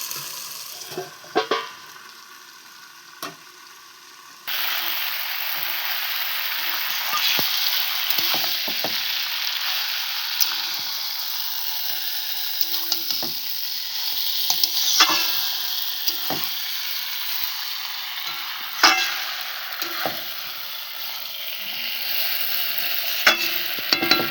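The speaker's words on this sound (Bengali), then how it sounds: "মাংসটা অনেকক্ষণ থেকে কষছিলাম" Chicken cooks slowly in a pan, sizzling steadily while a spoon scrapes and clacks against the pan in scattered strokes, starting quietly before the frying noise jumps up and carries on.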